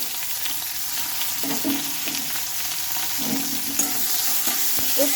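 Finely chopped onion frying in hot oil, a dense continuous sizzle with occasional stirring scrapes and small pops, close and steady throughout.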